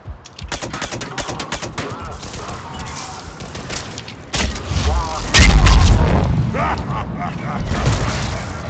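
Rapid bursts of automatic gunfire and heavy booms in Mass Effect 3 multiplayer, loud and continuous, with people talking over the shooting.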